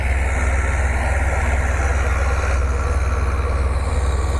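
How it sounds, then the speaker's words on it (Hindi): A thresher driven by a New Holland TD95 tractor on a farm runs steadily, a dense mechanical drone with a low rhythmic thrum, close and unbroken for the whole few seconds. "थ्रैशर ते किसी किस्म की कोई स्मोक वगैरह नहीं दे रहा बेहतरीन चल रहा है"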